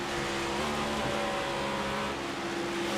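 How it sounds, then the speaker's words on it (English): Race car engine in a Tornado Alley 150 stock-car racing game holds a steady, loud drone with sustained harmonic tones for the full three seconds; no gear change stands out clearly. "shifting gears, you can hear it in that motor"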